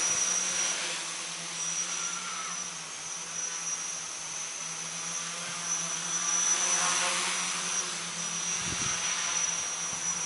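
A large RC tricopter powered by Skookum SK720 motors spins its props at idle-up throttle, producing a continuous buzzing drone with a steady high whine that swells and eases slightly, a light thump near the end.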